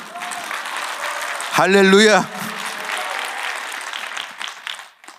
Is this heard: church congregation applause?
yes